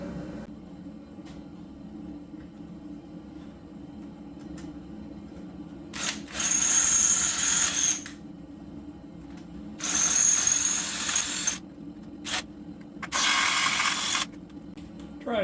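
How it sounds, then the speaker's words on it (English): A power drill drills out rivets in a garage, running in four loud, whining bursts of one to two seconds each, separated by quieter stretches of low background hum. "let me get those drilled out and pull that off."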